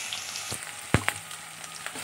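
Onions sauté gently in a pan for a spicy kara kuzhambu, a soft steady sizzle broken by a couple of louder utensil knocks near the middle, with no talking.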